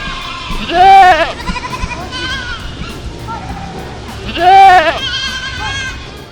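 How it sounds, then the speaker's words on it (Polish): A goat bleats loudly twice, a few seconds apart, each a wavering nasal cry, with quieter background noise between. "To jest koza. Tak, to koza. Koza meczy."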